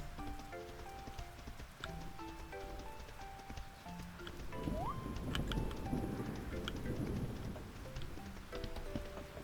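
Soft, steady rain patters in the farming game Fields of Mistria, a faint even hiss that swells slightly midway, with gentle tonal game music notes over it.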